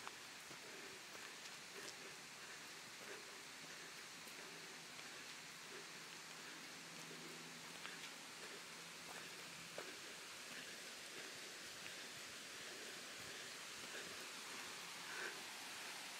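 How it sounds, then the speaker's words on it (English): Water from a waterfall stream rushes beside the Juney Whank Falls trail in the Great Smoky Mountains, a faint, steady broadband wash that stays constant throughout. "I hear some water getting closer."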